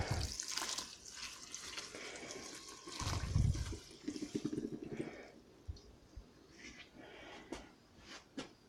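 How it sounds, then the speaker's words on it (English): Water is poured from a tap into a pot holding about half to three quarters of a pound of kratom leaves, a continuous rushing splash, loud and close, with gurgling variations and no talk. "I add my water in."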